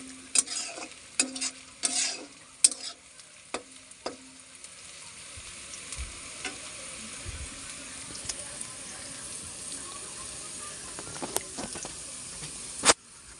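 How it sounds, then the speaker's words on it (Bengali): Onions fry in a pan for biryani, with a few sharp scrapes and clinks of stirring at first, then a soft, continuous sizzle close by. "এদিকে আমার পেঁয়াজ ভাজা হয়ে যাচ্ছে।"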